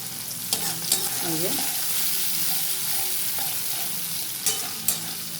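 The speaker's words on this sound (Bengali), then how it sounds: "সঙ্গে পেঁয়াজ কেটে রেখেছি সেটা দিয়ে দিলাম এগুলোকে ভালো করে আমি আগে ভেজে নেব" Chopped onion, green chillies and panch phoron fry in oil left from frying fish, with a steady close sizzle and a few scraping stirs and taps of a spatula.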